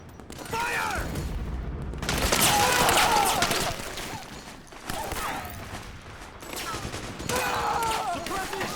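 Bursts of gunfire in Metal Gear Solid 4 crack out in loud volleys and rapid automatic strings, separated by short gaps, with shouted voices mixed into the battle.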